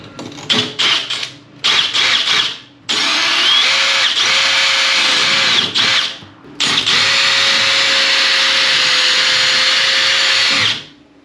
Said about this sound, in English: let's get these holes drilled out